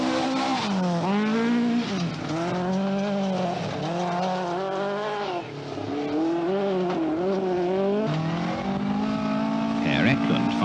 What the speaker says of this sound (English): Penty Ricola is always a welcome sight on British events, here at the wheel of a Tony Maslin Escort